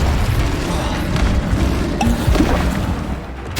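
A Confringo spell explodes in the video game Hogwarts Legacy, a loud, dense blast with a rumbling boom and crackling debris that holds steady for several seconds.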